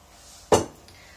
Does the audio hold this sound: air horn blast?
no